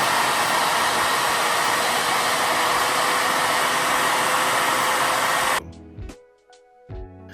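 A two-stage bladeless Tesla turbine, 4.5 inches in diameter, spins with a loud, steady rushing whine like a hair dryer. It cuts off abruptly near the end, followed by a few faint clicks and thumps.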